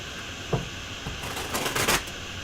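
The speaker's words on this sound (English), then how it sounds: "I just barely started shuffling" Tarot cards being shuffled by hand, papery riffles and soft slaps building in a few quick bursts toward the end, close and fairly quiet with no talk.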